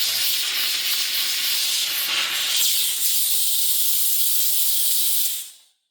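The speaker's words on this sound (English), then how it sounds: "A significant volume of steam coming out, and everything's still cool to the touch." A Beldray Titanium BEL07011TTR handheld steam cleaner blasts a loud, continuous hiss of steam for several seconds before cutting off and fading quickly at the end.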